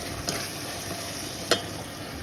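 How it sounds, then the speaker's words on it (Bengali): Small fish (gura mach) frying in a pan, a steady soft sizzle with a couple of brief sharp pops, near and alone without talk. "এদিকে মাছগুলো ভাজা হয়ে গেল"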